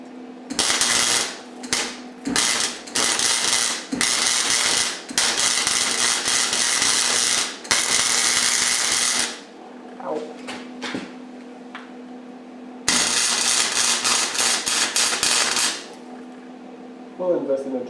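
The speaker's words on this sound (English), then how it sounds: "There's only this piece here that I need to finish welding." Arc welding on a beginner's steel square, a loud steady crackling sizzle in long bursts of several seconds, broken by short pauses and a few clanks and knocks between welds, heard up close.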